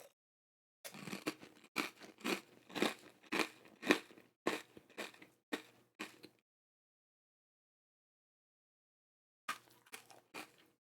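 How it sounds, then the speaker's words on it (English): Crunchy senbei rice cracker being chewed close up, a steady run of sharp crisp crunches for several seconds, a pause of silence, then a few more bites, with no talking. "Like any good senbei, though, it is crunchy as all heck."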